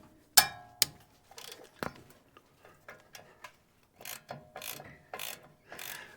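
A ratchet undoes a 12mm bolt on the brake line bracket of a Toyota Hilux, giving sharp clicking bursts and short ratcheting runs with pauses between them, close and fairly quiet in a workshop setting.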